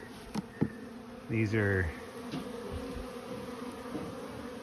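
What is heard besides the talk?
bees buzzing around flowers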